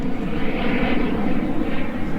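Aircraft at Warsaw Chopin Airport, heard from a public viewing point, gives a loud, steady broadband engine roar that holds throughout with no talk.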